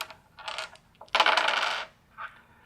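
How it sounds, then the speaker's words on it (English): Dice rolled for the board game King of Tokyo clatter on a tabletop in three quick bursts, the middle one longest and loudest, close and with no talk. "I pass the dice to Cyber Bunny. Cyber Bunny gets to roll"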